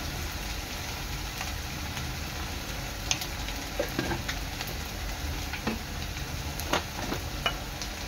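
Agri Koli spice masala sizzles in a hot pan for mushroom chana dal, a steady close frying hiss with scattered faint ticks and clicks of stirring throughout, no voices.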